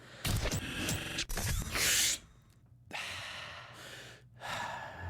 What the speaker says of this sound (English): the tip this week for biohacking is breathing exercises. Okay. It's called box breath.